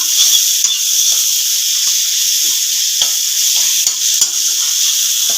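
Spices frying in a pan for a stuffed potol (pointed gourd) curry, a steady bright sizzle close by, broken by soft scraping clicks as a spoon stirs the mixture.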